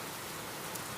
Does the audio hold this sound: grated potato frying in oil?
no